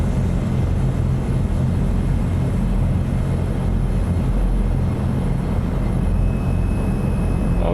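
Azurpoly C-160 aircraft taxiing in Microsoft Flight Simulator 2024, a loud, steady engine drone with a low rumble that holds constant throughout.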